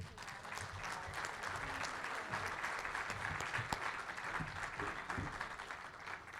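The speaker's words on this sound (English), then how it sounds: "Can we give our speakers a round of applause?" Steady, full applause from a summit audience for the presenters, even and continuous across the whole stretch with a few louder individual claps.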